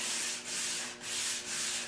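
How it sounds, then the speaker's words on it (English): Coarse sandpaper on a sanding block rubs back and forth over wood in four steady, close strokes, a dry rasping hiss with brief pauses as the direction changes. "putting some very coarse paper on my sanding block here, and then giving each side a good rundown here"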